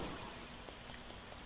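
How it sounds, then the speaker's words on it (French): Light rain falling in the Starbound video game, a soft, even patter of drops at low level with a few faint individual taps, no voices. "Sous une petite pluie."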